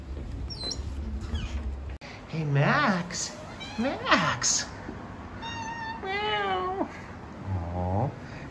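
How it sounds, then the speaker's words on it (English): A friendly cat outside an apartment building in the Obolon district of Kyiv gives several clear, rising and falling meows spread across the stretch, fairly close, over steady street background noise. "It's a super, super friendly cat, and she recognizes me every time from my previous visits."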